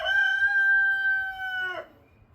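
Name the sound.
rooster crowing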